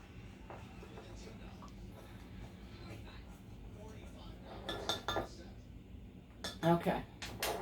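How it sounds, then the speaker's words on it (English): Firecrackers mixture with ranch being stirred in a bowl, giving a quiet scraping clatter of utensil against bowl that grows into louder clinks near the end. "I'm going to give this one more stir because the ranch and anything that's heavy,"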